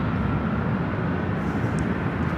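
An Airways airliner taking off from runway 24 left at LAX, a continuous low rumbling engine roar at moderate distance, steady throughout.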